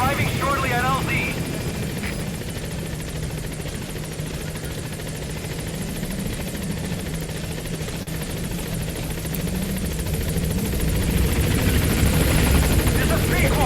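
Pequod transport helicopter from Metal Gear Solid 5: The Phantom Pain arriving, a steady loud rotor drone that holds throughout and swells slightly near the end, with a voice over it.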